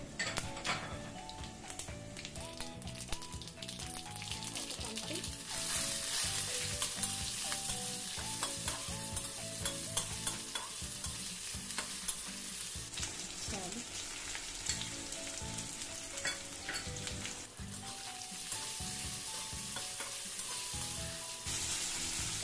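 Dry chili and panch phoron fry in a couple of spoons of oil, a constant soft crackle running beneath melodic background music, with occasional light stirring ticks.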